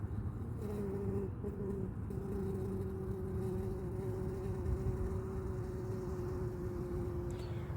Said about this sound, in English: You can see there's quite a few bees coming in.